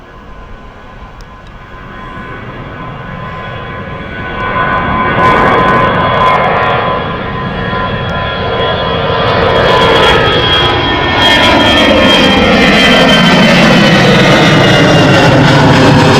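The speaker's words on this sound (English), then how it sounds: "British Airways just landing now. This is the 777-200 from Kingston." A British Airways Boeing 777-200 jet lands at Gatwick Airport, its engine roar swelling loud and broad as it passes close, with a falling whine and sustained rumble afterward.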